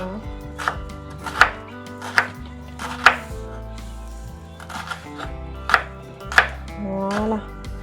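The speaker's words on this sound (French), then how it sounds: "Je vais couper l'échalote." A knife cuts a shallot lengthwise on a cutting board, giving several sharp, close chops at irregular intervals, with quiet handling noises and clatter between strikes.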